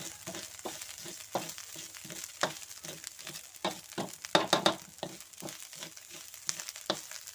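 Eel stir-fried with spicy paste in a wok crackles and sizzles steadily, broken by repeated scraping and knocking strokes from stirring that come in an uneven rhythm, close and fairly quiet.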